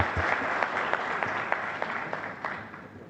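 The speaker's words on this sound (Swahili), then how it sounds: "makofi tafadhali" A crowd applauds at the launch of a five-star hotel in Arusha attended by the Tanzanian president, with sustained, even clapping and a few sharper individual claps standing out, and no speech over it.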